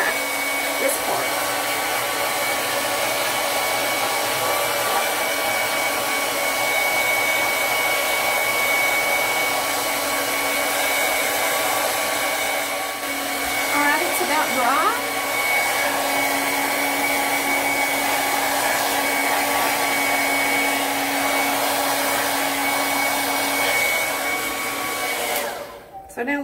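A hair dryer blow-drying hair during an updo styling runs as a loud, steady whooshing drone close by for nearly half a minute, briefly shifting in pitch midway and cutting off at the very end.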